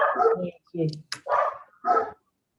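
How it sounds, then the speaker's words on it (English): Several dogs bark in short bursts in a home, four loud separate barks close to the microphone with brief gaps between them. "my dogs have just decided to start barking"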